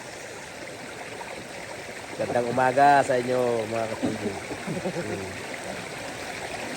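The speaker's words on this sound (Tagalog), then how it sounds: "Dito kami sa batis ng Magdalena." A flowing stream at Magdalena rushes steadily throughout, a continuous watery wash with someone talking over it partway through.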